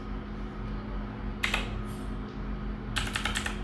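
Two short bursts of keystrokes on a computer keyboard while Python code is typed, close and clear over a steady low room hum.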